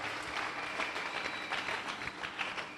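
A church congregation bursts into loud, sustained applause, a dense wash of many hands clapping together for the full stretch without pause.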